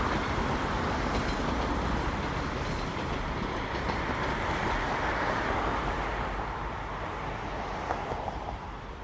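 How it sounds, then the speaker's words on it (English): A train rumbles past close by in Toronto, a dense continuous roar of rail noise holding steady for the whole stretch without pause. "We're certainly running a lot of trains tonight."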